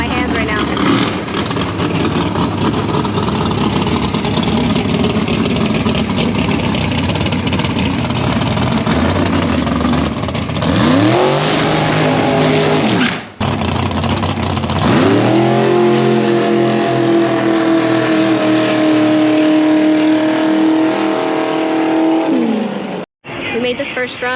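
Nitro drag race car idles loudly, then revs and launches on its first run with a long roaring engine note that sweeps up, cuts out briefly and roars again before ending abruptly.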